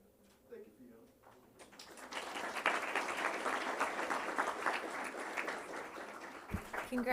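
Audience at a school board meeting breaking into sustained applause that builds quickly and holds steady, after a quieter opening stretch with a brief thump near the end.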